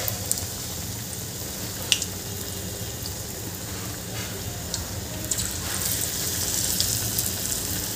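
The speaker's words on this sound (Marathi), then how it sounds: "याला छान खरपूस तळून घ्यायचे आहे. मी असे पूर्ण पकोडे तळून घेते." Bread slices dipped in batter deep-frying as pakoras in hot oil, a steady close sizzle and crackle throughout with a few brief sharp pops and no talking.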